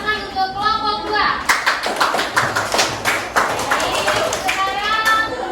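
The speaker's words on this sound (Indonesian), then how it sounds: "Beri tepuk tangan untuk kelompok 2" A classroom of children applauds group 2 together, loud, fast, rhythmic clapping that continues steadily while young voices chatter and call out.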